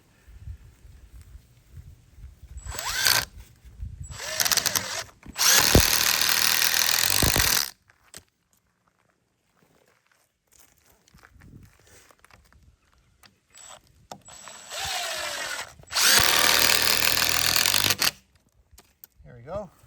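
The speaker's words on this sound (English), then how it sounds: "these are 2x6s, so I'm going to put 3 screws instead of 2 that you use for 2x4s" A power drill drives screws into 2x6 deck boards, several loud whirring bursts of a few seconds each separated by quieter pauses, with someone talking in between.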